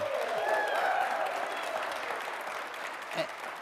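Audience applause at a college speaker event, a steady, dense wash of clapping that stays loud for several seconds and tapers slightly toward the end.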